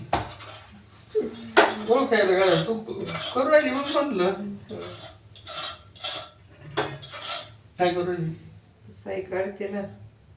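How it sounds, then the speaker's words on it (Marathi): Washed steel pots and utensils being put away in a home kitchen, with sharp clinks and clatters spaced through the clip while someone talks over them. "जे रात्री आपण जे भांडे घासून घेतलेले आहे ते जिथले तिथं ठेवून घेऊया"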